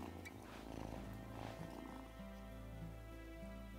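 A cat in Wylde Flowers purrs softly while getting head scratches, a low steady rumble beneath gentle game music, faint and continuous with no talking.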